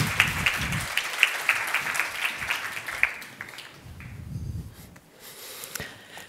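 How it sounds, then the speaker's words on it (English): Modest applause from a conference audience at an ethics and AI congress plenary session, scattered claps fading out over a few seconds, with shuffling and faint movement noises afterward. "Big applause."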